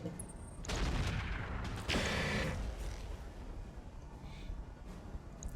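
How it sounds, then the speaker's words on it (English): Mech combat video game weapons firing at an enemy mech's legs, with two heavy bursts of impacts and mechanical clanks over a low rumbling bed, fading into softer rumble and distant metallic noise. "We can now freely shoot his legs."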